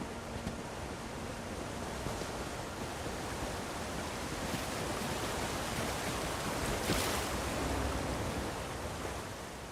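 Steady broadband rush of a waterfall in The Elder Scrolls Online fills the scene, constant and fairly close, with no voices over it.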